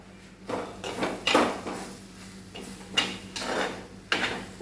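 Okra avial, with a little chilli powder just added, is stirred in a pan with a spoon: a few separate scraping sweeps come through over a low steady hum, with quieter rustling between them.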